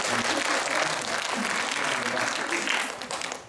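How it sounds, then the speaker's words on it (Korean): A church congregation applauds a welcomed guest with steady, close, lively clapping that holds for several seconds before trailing off. "박수 한번 볼게요."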